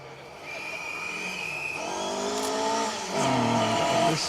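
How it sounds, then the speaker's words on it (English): A 1600cc Talbot Sunbeam rally car, number 47, drives through a forest stage of the Wyedean Stages Rally. Its engine builds from a distant drone to a loud, close, revving pass, with rising and shifting engine notes. Other stage noise sits underneath. "1600cc Talbot Sunbeam. This is car number 47, Paul Tappin and Richard Tappin in that."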